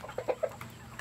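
A large Rhode Island rooster clucks in a few short, separate bursts, close by, with faint farmyard background and no talking.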